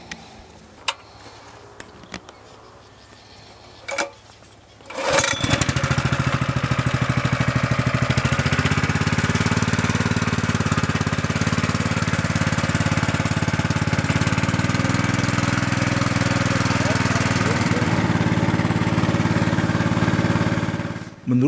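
An engine-driven shredder chops leaves into fertilizer on a potato farm at Ranu Pani, Indonesia, starting up after a few clicks and knocks, then running as a loud, steady, grinding roar close by until it cuts off.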